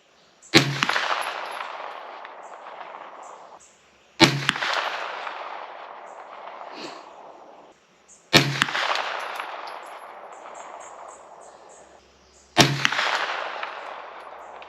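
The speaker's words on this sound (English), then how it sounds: "This will be shot 6 through 10 of the brand new barrel" Four loud, sharp gunshots from an Aero Precision EPC 9mm carbine with a brand-new barrel at an outdoor range, evenly spaced about four seconds apart, each ringing out and decaying before the next.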